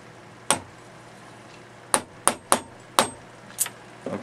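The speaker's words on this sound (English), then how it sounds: "as I come through with this punch, it's going to dimple out here" A hammer strikes a punch against stainless steel held on a vise serving as an anvil, producing seven sharp, ringing metallic blows at uneven intervals, close and clear with no talk.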